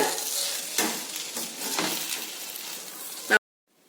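Wheat flour noodles get mixed with masala in a pan, with repeated scraping stir strokes and light utensil clinks against a faint sizzle, cut off abruptly at the end.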